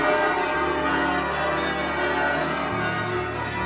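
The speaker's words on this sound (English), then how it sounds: "There has to be bell ringing every time check now, every opening." Church bells ringing in a sustained, dense wash of overlapping tones, steady and loud throughout with no voices.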